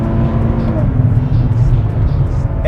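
500-horsepower Nissan Z with an automatic gearbox accelerating hard from inside the cabin, a loud, continuous engine drone with rising pitch sweeps as it pulls through the gears.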